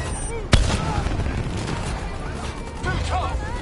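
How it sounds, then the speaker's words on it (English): Swarm launcher firing in Call of Duty: one sharp, loud blast opens a roiling wash of explosions and gunfire, with shouted voices over the battle noise. "Hit him with the swarm launcher!"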